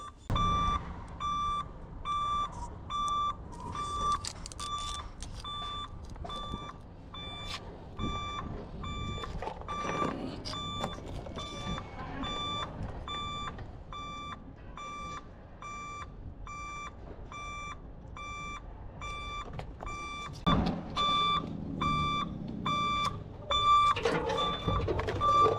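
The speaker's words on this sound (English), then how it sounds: "this beeper is gonna drive me crazy" Reverse beeper of a 2021 Ford Transit with a parking aid malfunction, sounding a steady train of evenly spaced electronic beeps throughout, with faint clunks and handling noise in the background.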